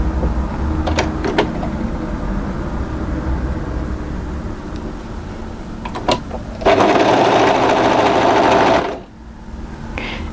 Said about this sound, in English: we're going to match that to the very bottom of the garment and sew up the side seam